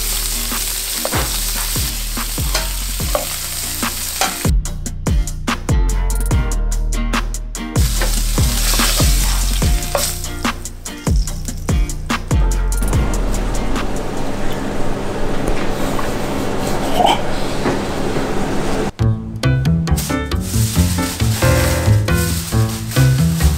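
Durum roll filling fries loudly in wagyu fat, a dense, constant sizzle heard close up under rhythmic background music.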